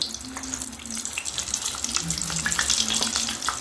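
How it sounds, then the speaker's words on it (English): Bananas dropped into hot oil set off a steady, bright sizzle and bubbling that keeps going throughout, a wet crackle with some low clatter underneath. "Just get my bananas and dump them in the oil"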